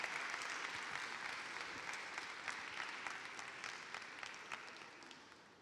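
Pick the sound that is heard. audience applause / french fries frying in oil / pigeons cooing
audience applause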